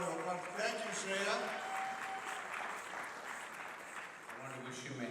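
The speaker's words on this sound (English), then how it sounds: "Please give her another round of applause." Audience at an anniversary celebration gives a round of applause after a performance, a steady wash of clapping that fades slightly, heard with background music and a faint tone underneath.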